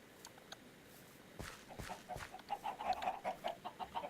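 Chickens clucking around a chicken herder's hut in the modded Minecraft pack Enigmatica 2, a run of repeated rhythmic clucks building in the second half after a few scattered thuds, close and moderately loud.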